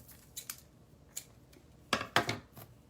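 Scissors snipping through a piece of jute in a quiet room, a few faint cuts early on followed by two louder, crisp crunching snips near the end.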